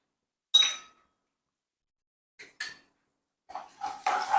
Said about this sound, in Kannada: ಅದಾದಮೇಲೆ ನಾನು ನೋಡಿ ಇಲ್ಲಿ ಉದ್ದಿನಬೇಳೆ ಹಾಕ್ತಾ ಇದ್ದೀನಿ.